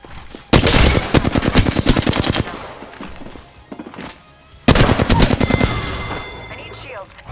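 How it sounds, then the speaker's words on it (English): Rapid automatic gunfire in the video game Apex Legends comes in two loud, dense bursts of rattling shots, separated by a quieter stretch with thuds and faint game sounds. "Getting shot at."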